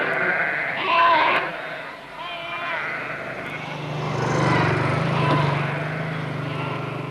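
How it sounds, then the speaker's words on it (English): Sheep grazing in an open field bleat in several wavering calls, clearest early on, while a low engine drone rises in the background. "The sheep eat the lot."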